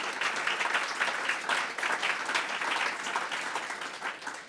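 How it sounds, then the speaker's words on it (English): A conference audience gives event staff a warm round of applause, dense and even clapping sustained for several seconds with a slight fade at the end. "So if we can do a warm round of applause for them and all the other staff."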